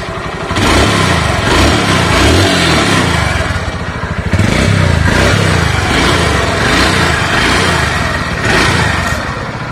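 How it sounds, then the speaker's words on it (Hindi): A Honda Dream Yuga 110cc motorcycle engine idles steadily up close, a continuous low chugging rumble with a slight dip in loudness partway through. "ये इंजन साउंड आपको नॉर्मल है, तो ऐसा इंजन का साउंड अगर बाइक का रहेगा तो इंजन अच्छा मान सकते हैं।"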